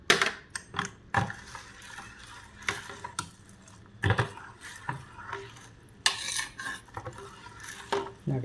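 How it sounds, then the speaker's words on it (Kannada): A spoon stirs and scrapes a thick milk powder mixture for homemade ice cream in a bowl, making repeated soft clinks and scraping strokes at an uneven rhythm, close by, with no talking. "ಇದು ಸ್ವಲ್ಪನೇ ಹೀಗೆ ಹಾಕ್ಕೊಂಡು ನಿಧಾನವಾಗಿ ಹೀಗೆ ಮಿಕ್ಸ್ ಮಾಡಿ"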